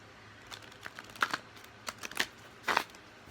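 Quiet crisp riffling bursts of playing cards being shuffled, several short flurries spaced apart with no talking.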